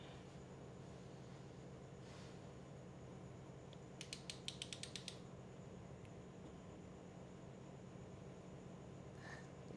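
Torque wrench clicking while tightening the spark plug on a Yamaha R15 bike: a quick burst of about eight sharp metallic ratchet clicks, fairly close, over a low steady background hum.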